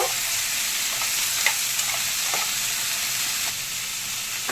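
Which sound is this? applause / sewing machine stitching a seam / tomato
tomato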